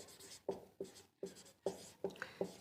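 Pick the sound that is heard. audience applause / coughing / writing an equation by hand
writing an equation by hand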